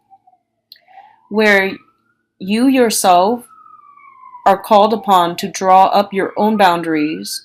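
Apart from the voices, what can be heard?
siren passing outside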